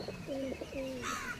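Pigeons at a backyard loft of Matraj and Giribaj breeds, cooing in a few soft rounded phrases close by, with a faint higher chirp near the end.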